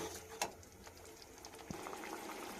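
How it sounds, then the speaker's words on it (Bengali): Chili chicken gravy made with chicken liver and gizzard simmers in a pan, giving a faint, steady bubbling with a few soft pops and spatters, close and with no talk. "তার জন্য এটা আবারও ফুটতে দিয়ে দেব।"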